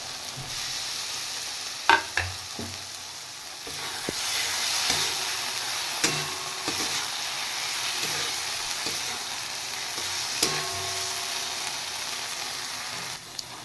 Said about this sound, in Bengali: এবার আমি এই পিস করে রাখা ডিমগুলো দিয়ে দেব।